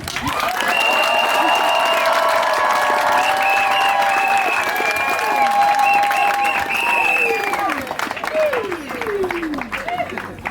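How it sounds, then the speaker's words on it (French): Guests at a traditional customary wedding applaud loudly and continuously, with cheers, whoops and chatter running through the clapping throughout. "On applaudit."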